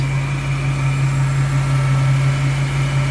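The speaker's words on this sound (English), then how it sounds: "can you believe how smooth that motor is?" A Willys Jeep CJ-2A engine idling steadily and smoothly with a constant low hum and even drone, no revving or variation, heard close up.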